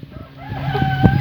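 Chickens on a small farm raising 4H meat birds give short clucks and squawks, close and fairly loud, over a low background hum during a brief moment.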